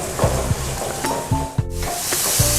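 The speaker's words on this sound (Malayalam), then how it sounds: "ഇനി നമുക്കിതിലേക്ക് കോളിഫ്ലവർ ചേർത്ത് കൊടുക്കാവുന്നതാണ്. ഒന്നുകൂടെ ഒന്ന് ഇളക്കി കൊടുക്കാം." Cauliflower stirred into sizzling vegetables for a vegetable pulao makes a close, brief sizzle with scraping stir strokes, over steady tonal background music.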